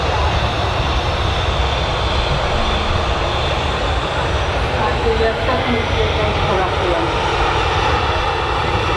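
Airbus A320 airliner jet engines roaring steadily at Manchester Airport, a continuous broadband rumble filling the whole stretch with no letup, voices faintly present underneath.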